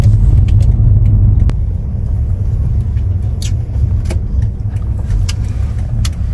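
Steady low road rumble inside a car while driving on a Sunday outing toward a mall, continuous and close, with occasional faint light rattles and clicks above it and no talking.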